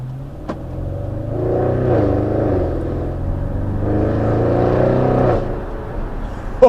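A 730 bhp Audi RS6 in dynamic mode pulls hard from a stop, its engine note climbing through rising revs with a brief dip at a gear change before surging again, loud and close from inside the car.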